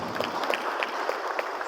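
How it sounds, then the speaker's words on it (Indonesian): A gathering of farmers claps briefly and softly at an outdoor meeting, scattered hand claps close together over under two seconds with no speech on top. "Tepuk tangan untuk Bapak Ibu."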